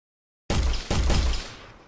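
Two sharp, loud gunshot bangs about half a second apart from a character firing a projectile weapon in an Unreal Engine multiplayer game, each followed by a lingering rumbling tail.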